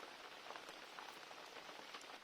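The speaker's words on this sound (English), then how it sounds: "we're here waiting for the rain to pass, hopefully." Steady rain patters densely on nearby surfaces at a wind shelter in Glaskogen National Park, Sweden, a soft, even hiss with faint individual drops and no voices.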